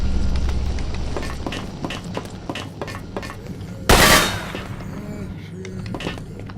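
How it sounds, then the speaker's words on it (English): Gunfire in the video game S.T.A.L.K.E.R., rapid bursts of shots and one loud close blast amid game ambience, with a voice speaking over it. "Who's shooting at us?"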